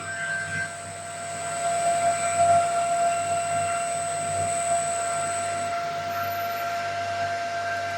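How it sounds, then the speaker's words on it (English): A booster water pump motor driven by a variable frequency drive winds down to a smooth stop. A steady electrical whine with layered tones and a soft hiss holds, then a high tone fades out near the end. "now you can see pump is entirely shut down very smoothly"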